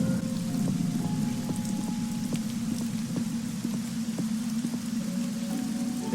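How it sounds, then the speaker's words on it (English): Rain in the video game Black Mirror III pours steadily onto surfaces, with dense, even patter and scattered sharper drips over a low rumbling wash, continuous and fairly loud with no voices. "now it starts to rain"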